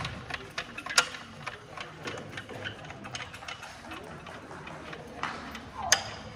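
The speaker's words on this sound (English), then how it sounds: "you have a winch that'll raise the net for you" Hand winch cranked to raise a gym volleyball net, giving a soft, steady series of mechanical clicks and ratcheting ticks with a couple of sharper clanks, fairly close and quiet.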